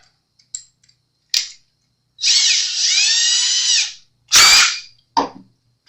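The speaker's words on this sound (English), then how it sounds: "we're going to drill it" A power drill bores a screw hole into a PJ bass guitar neck: one steady motor whine lasting under two seconds, close and fairly loud, framed by short clicks and knocks from handling.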